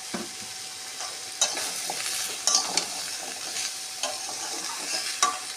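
Soybean chunks with mixed vegetables and chopped green chillies fry in a pan, giving a steady close sizzle broken by a few sharper scrapes and stirs of a spatula against the metal. Nobody speaks.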